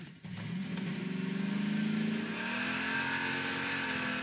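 A car engine in Garry's Mod revs up with a rising, wavering whine, then settles into a steady sustained drone at moderate volume with no talking.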